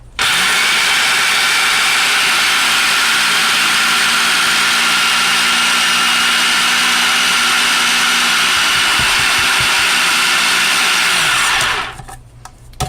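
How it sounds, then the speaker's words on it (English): A food processor whirs at high speed for about twelve seconds, crushing graham crackers mixed with butter and sugar into a crust, then cuts off abruptly. "what this is going to do is just going to mash your graham crackers down to a really nice crust there"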